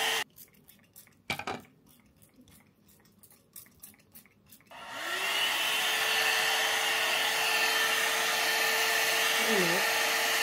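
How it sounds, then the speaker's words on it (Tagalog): A hair dryer switches on after light clinking and tapping, ramping up into a loud, steady blowing roar that fills the room with a faint whine through it. "Hair blower?"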